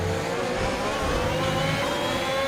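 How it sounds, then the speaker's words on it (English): A race car engine revs hard and climbs in pitch as it accelerates through a quick corner in a Formula-style sprint race video game at Emilia Romagna, loud and continuous with no talk. "Car gets quite lively going through."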